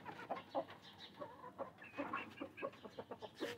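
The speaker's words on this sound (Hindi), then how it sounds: "भाई साहब मुर्गियाँ बाहर आ गई" Several chickens cluck and chatter close by after escaping their enclosure, a busy run of short, overlapping calls with no speech.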